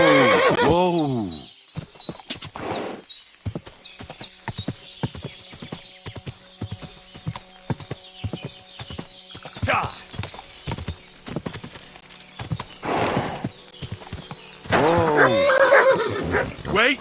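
Horse in a medieval role-playing game, opening with a loud neigh, then steady clip-clopping hoofbeats over several seconds, a few short snorts, and a second loud whinny near the close.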